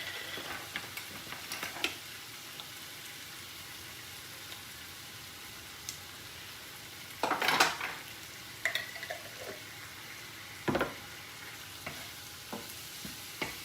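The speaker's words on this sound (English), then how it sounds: "I'm going to add 2 cloves of garlic." Two garlic cloves sizzle in a hot skillet, a steady, quiet frying hiss with occasional scraping stirs and a louder burst of crackling partway through.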